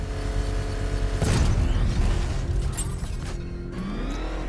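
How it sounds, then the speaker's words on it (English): A controlled bomb explosion in the Batman Arkham Knight video game, a heavy booming blast that bursts in after a mechanical hum and rumbles out, followed by lighter debris and whooshing game effects. "I can use the power winch to trigger a controlled explosion"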